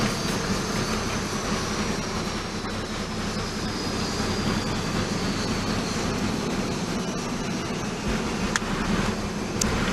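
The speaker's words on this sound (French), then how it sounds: "l'Airbus A330-200 s'est immobilisé sur le tarmac" An Airbus A330-200 presidential plane stands on the tarmac, giving off a loud, steady broadband roar and whine of engines and equipment at close range, with no voices.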